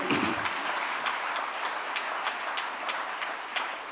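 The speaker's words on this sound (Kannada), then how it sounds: "ನಮ್ಮ ಪೂಜ್ಯ ಸ್ವಾಮೀಜಿ ಅವ್ರಿಗೆ ಜೋರು ಚಪ್ಪಾಳೆ ಇರಲಿ" An audience claps steadily for a swamiji at a spiritual gathering, with sustained applause and sharper periodic claps throughout, fairly loud and continuous, no talk over it.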